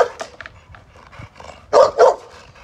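A bully breed dog at a kennel gives two loud close barks after a stretch of softer yips and whimpers, with no talk heard.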